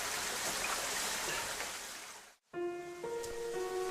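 Steady rushing water pours out from a cave, a broad, even wash close by that cuts off abruptly, then returns mixed with steady tonal hums.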